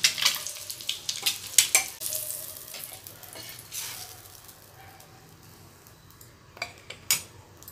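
Egg pepper fry cooking in a pan on a low flame gives a soft sizzle beneath bursts of spatula scraping and light clattering against the pan, busier early on, then quieter with a few scrapes near the end.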